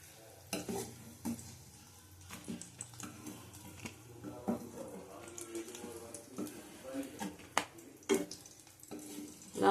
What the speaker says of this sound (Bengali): লাল করে ভেজে নিয়েছি সব আলু